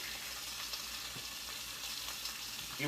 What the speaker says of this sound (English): By the time this here bacon gets done cooking, we turn off the stove